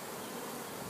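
A continuous buzzing drone of fanning bees, faint and uniform, heard alone without any voices.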